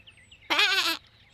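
One short bleat from a sheep on a farm visit, near and clear, about half a second long against a quiet background.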